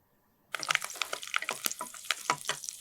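Curry leaves hit hot oil in a pan and burst into a loud, close, spattering crackle after a brief near-silence, popping busily and unevenly throughout.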